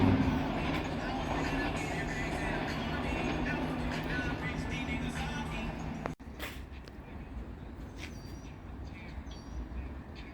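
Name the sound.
train at North Philadelphia station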